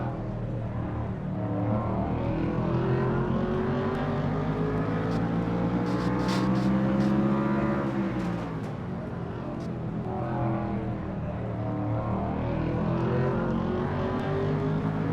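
Onboard engine of the number 57 Heinz Ketchup Pontiac stock car in a racing video game, a loud steady droning roar whose pitch climbs, dips as it shifts, then climbs again, continuous throughout.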